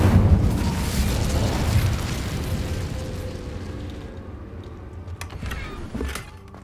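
An Incendio fire spell cast in the video game Hogwarts Legacy erupts as a loud, booming burst of flame with deep rumble. It fades gradually over several seconds, and a smaller pop follows near the end.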